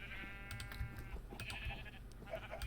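Minecraft sheep bleating, a clear wavering bleat at the start followed by another bleat and a few softer calls, fairly close, with light clicks and movement sounds between them.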